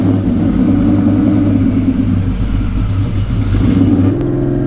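Supercharged Whipple SVT Cobra V8 running an E90 tune roars loud and close as it accelerates hard, a steady throaty drone filling the whole stretch with a brief upward shift near the end.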